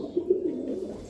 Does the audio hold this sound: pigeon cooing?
yes